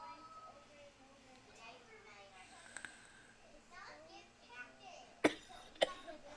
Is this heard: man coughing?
yes